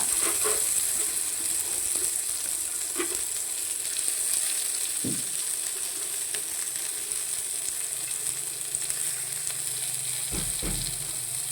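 Garlic, curry leaves and onion sizzle steadily in a hot pan, with a few scattered knocks and scrapes as the mixture is stirred, close and continuous throughout.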